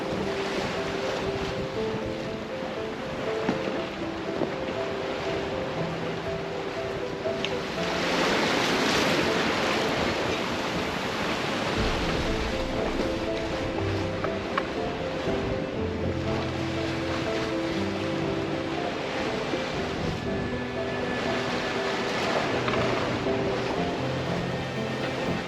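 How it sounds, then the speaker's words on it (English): A sailboat runs up the Irish Sea coast from Ireland toward Northern Ireland, with waves washing and breaking against the hull under steady wind noise, one louder surge partway through. "So we're just sailing up the coast from Ireland to Northern Ireland"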